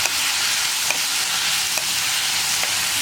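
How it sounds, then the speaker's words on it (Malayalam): Potato with curry leaves sizzling in a frying pan, a steady hiss of frying with a few soft knocks from stirring, close up and with no voices. "ഇനി ഒന്ന് നന്നായിട്ട് ഇളക്കി മിക്സ് ചെയ്യാം."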